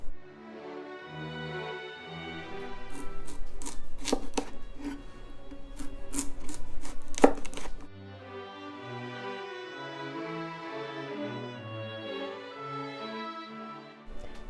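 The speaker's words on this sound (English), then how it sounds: "we're just going to carefully peel off this tough outer skin" A knife slices the tough outer skin from a turnip on a cutting board in a series of firm, close cuts and scrapes, busier and louder midway, with no voices.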